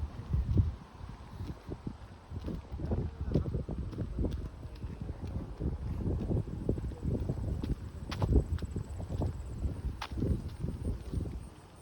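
Gusty wind buffets the microphone in low rumbling bursts while walking through a park, with faint footsteps or shuffling mixed in and no talking.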